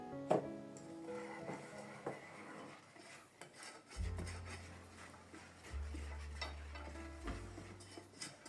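Cream being stirred into dry ingredients in a saucepan for hot chocolate: quiet, uneven scraping and rubbing of a utensil against the pan, with a few light clinks, close but low in level.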